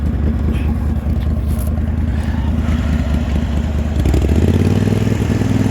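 During a snowstorm, a vehicle engine in low range rumbles close by with a chugging mechanical beat and some clatter, then revs up near the end. No one talks.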